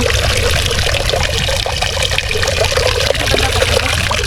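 Steady rushing and trickling of an untreated stream flowing near a small campsite, a continuous close wash of water with no pauses or voices.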